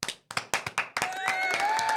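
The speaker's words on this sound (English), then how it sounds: "And we have the applause too." Several sharp hand claps ring out in a quick burst, then blend into a short round of applause as a podcast guest, Olympic athlete Elena Kulichenko, is welcomed; close and lively.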